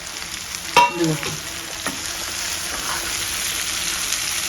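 Finely chopped cabbage cooking slowly in a pan over medium heat, giving a steady soft sizzle with a couple of brief stirring clinks early on, close and continuous.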